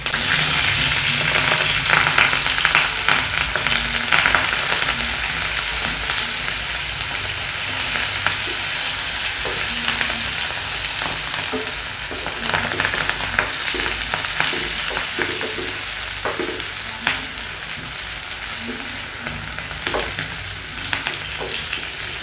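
Fish wrapped in banana leaf fries in a pan over a slow flame in Kerala style, giving a steady close sizzle throughout with small pops and crackles and no talking.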